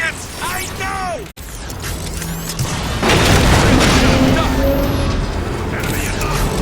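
Rocket explosions in the video game Transformers: Fall of Cybertron, loud booming blasts over a steady roar of combat noise, with voices shouting.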